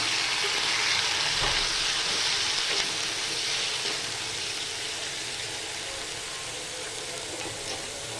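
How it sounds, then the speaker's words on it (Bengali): Vegetables fry in a pan for chicken curry, giving a steady broadband sizzle that eases slightly in loudness over time, with a faint stir or clunk early on and no talk. "এখন এইগুলিকে একটু ভাজা ভাজা করবো।"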